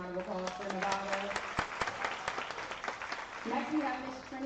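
An audience at a youth pitch competition gives moderate, steady clapping throughout, with a voice faintly audible under it near the start and end.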